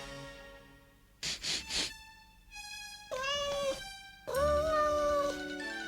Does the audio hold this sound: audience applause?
no